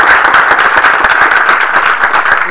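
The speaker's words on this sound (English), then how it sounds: "We have a round of applause for it." A council meeting audience gives a short burst of steady, dense clapping for a group of gentlemen, loud and close. The applause has no talk over it.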